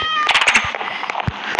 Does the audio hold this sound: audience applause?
no